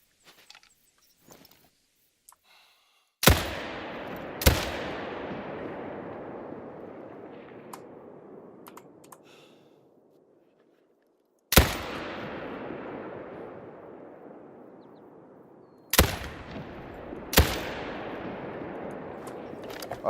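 Hunting rifle shots in the game Hunter: Call of the Wild at Leyton Lake ring out sharply, five loud cracks in two clusters, each followed by a long rolling echo that fades into quiet.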